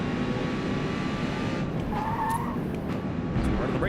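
A race car in Forza Motorsport skids under hard braking with a loud, sustained engine roar and a brief tire squeal over it, and no talk.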